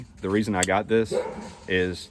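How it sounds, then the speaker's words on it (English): A dog chasing squirrels outdoors barks and yips in several close, loud bursts, mixed with someone talking over it. "sorry about my dog, he's chasing squirrels"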